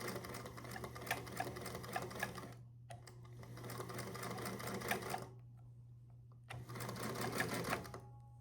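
A restored Singer Featherweight 221 Centennial Edition sewing machine stitches in close, loud bursts, with its motor whirring and needle chattering, speeding and slowing, stopping briefly twice between runs.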